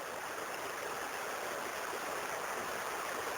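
The Belichka river rushes steadily at its mouth where it meets the Treska in a valley, a constant broadband water hiss with no breaks, heard alone without voices.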